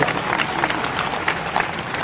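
Dense applause from a large crowd at an outdoor political rally, steady and loud, with cheering voices mixed in and the speaker's amplified talk nearby.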